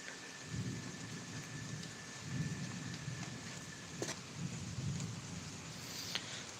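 A nighttime thunderstorm in Pittsburg, Kansas: steady rain patters throughout while low thunder rumbles roll in repeatedly, distant and fairly quiet, with no voices.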